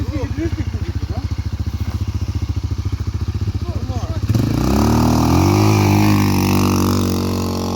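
A motorcycle engine idles with a fast, even chug, then is revved up and held at a louder, higher roar with rising and falling pitch.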